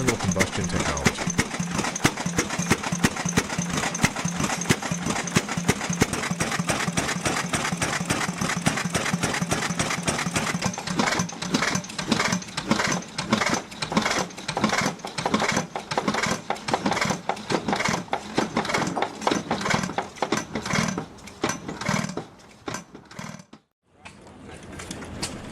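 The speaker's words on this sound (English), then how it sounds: "a 1904 gas engine water pump stands as both a historical artifact" A 1904 antique hit-and-miss gas engine drives a water pump, giving a steady rapid mechanical chugging that runs on for about twenty seconds before briefly cutting out and starting again.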